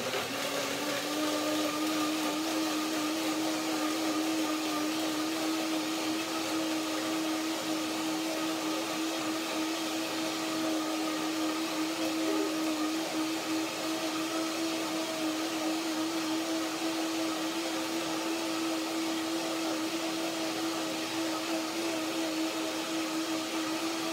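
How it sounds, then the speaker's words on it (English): A blender runs steadily at high speed, pureeing plums, dates and lemon into plum butter, a constant loud whirring motor drone with a stable pitch and no pauses, with no talking over it. "Blend it for some time now, because plums, they have a thick peel in the skin and takes some time to blend it down"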